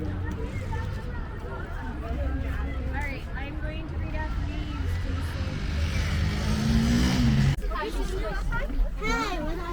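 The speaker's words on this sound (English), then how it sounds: "Bây giờ đã lên xe bus." A school bus on a field trip to the Bowers Museum in Santa Ana rumbles along with a low steady engine drone, while children chatter and talk loudly throughout over the road noise.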